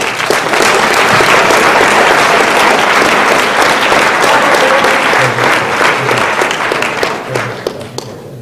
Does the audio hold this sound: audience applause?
yes